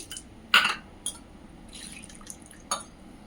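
Water splashes and drips into a bowl of tamarind set to soak for a peanut chutney, coming in a few short, close bursts over a quiet kitchen background.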